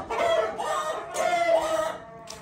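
Aseel chickens clucking and crowing up close, two loud drawn-out calls with a short gap between them, then a brief faint note at the end.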